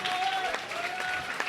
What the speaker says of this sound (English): earns the round of applause from the crowd.